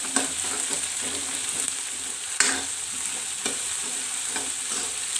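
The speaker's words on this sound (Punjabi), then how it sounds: "ਲਸਣ ਨੂੰ ਆਪਾਂ ਇੱਕ ਵਾਰੀ ਫੇਰ ਚੰਗੀ ਤਰ੍ਹਾਂ ਭੁੰਨਾਂਗੇ ਲਸਣ ਅਦਰਕ ਪਿਆਜ਼ ਨੂੰ" Browned onion with ground garlic, ginger and green chillies frying in a pan, a continuous close sizzle with steady stirring scrapes and one sharper clink of the spoon, no talk.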